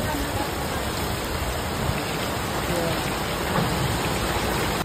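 Heavy rain from a sudden storm hammers down at a shop, a loud, unbroken wash of falling water with no clear talk above it.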